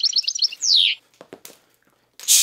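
A blue bird in the Super Famicom Astro Boy game chirps in quick bright electronic tweets, then a rising sweep, followed by sparse clicks and a final loud burst.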